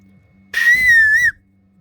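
A 3D-printed whistle blown once, a single clear shrill tone lasting under a second, loud and close.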